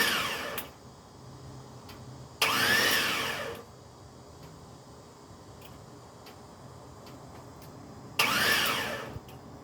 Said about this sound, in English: let's hope it cranks over